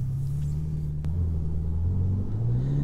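A Ferrari Roma pulls away with its engine note rising as it accelerates, heard from inside as a steady low rumble with no talk.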